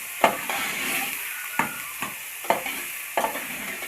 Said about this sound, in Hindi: थोड़ी सी प्याज भुन जाती है